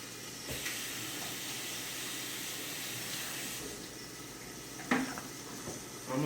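Chicken browns in oil in a pan for chicken broccoli Alfredo, giving a steady, moderately quiet sizzling hiss throughout with a couple of brief clatters near the end.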